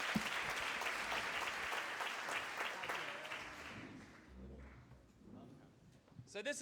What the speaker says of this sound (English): Give Carol a round of applause.